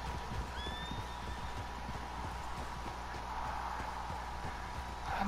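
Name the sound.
horses in Red Dead Redemption 2, video game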